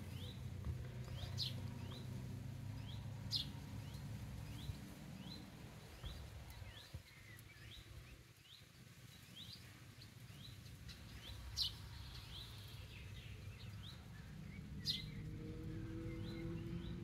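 A tit calls repeatedly outdoors with short, bright chirps at an even pace, fairly faint against a steady rumble of distant motorcycle traffic.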